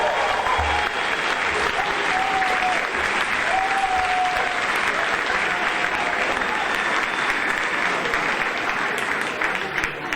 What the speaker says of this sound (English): Can we please have another round of applause for these amazing third graders?